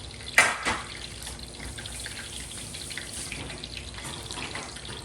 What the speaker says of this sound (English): I always rinse my hands off because I don't like the crab seasoning dripping all over the place